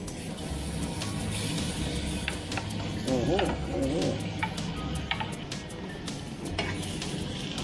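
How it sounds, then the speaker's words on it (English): Potatoes for jeera aloo sizzle steadily in a frying pan, a continuous crackling hiss with occasional stirring clicks and clinks, while a person talks over it. "And then you're supposed to throw the potatoes in"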